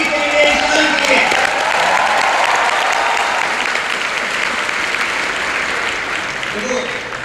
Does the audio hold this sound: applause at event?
yes